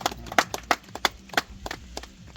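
Audience clapping at a village prize ceremony for bullock-cart pulling contest winners, a loose run of separate hand claps at an uneven pace, close and moderately loud, with no speech.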